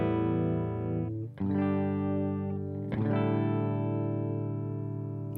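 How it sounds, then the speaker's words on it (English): An electric guitar plays through an amplifier with the overdrive pedal switched off, giving a clean tone; two strummed chords ring out loud and sustained, with no talking. "Now our overdrive pedal is off, and our amplifier produced"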